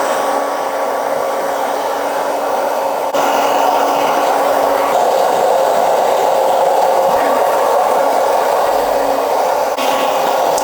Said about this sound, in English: Now I'm going to fast forward this with the diffuser